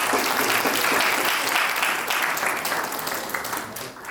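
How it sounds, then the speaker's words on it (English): An audience claps loudly for a volunteer at a public speaking session, a dense sustained burst of applause that fades slightly toward the end. "Give him a round of applause"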